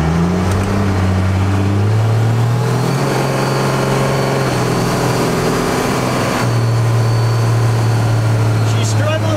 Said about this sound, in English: She's struggling to shift gears there.